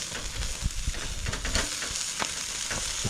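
Food sizzles and spits in a pan over an overly hot campfire while being turned, a steady crackling fry with scattered sharp pops and scrapes, fairly close and alone.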